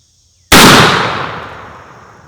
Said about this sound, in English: to send this round down range, I'm going to use my Winchester Model 12